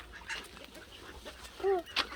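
Farm ducks eating bread give a couple of short, close quacks near the end, over quiet outdoor background noise.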